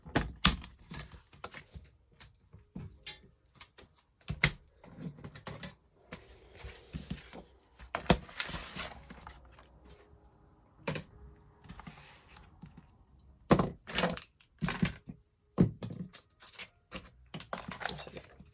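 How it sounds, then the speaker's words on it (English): A die cutting machine presses metal dies through paper, giving a string of loud, uneven thumps and clacks with short pauses and rolling mechanical grinding between them, close and alone. "now we can die cut these out"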